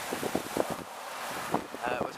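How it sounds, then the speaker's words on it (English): Strong gusty wind roars across the microphone outdoors under a bridge ahead of a tornado in Columbia, Missouri, a steady loud rush with voices talking intermittently through it. "It's windy."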